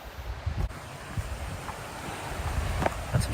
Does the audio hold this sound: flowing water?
yes